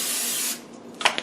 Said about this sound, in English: Grab your cooking spray,